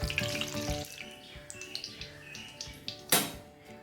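Fresh curry leaves fry in hot oil in a pan, giving a continuous crackling sizzle with scattered pops. A sharp louder burst comes near the end. The sound is close and moderately loud, with no speech.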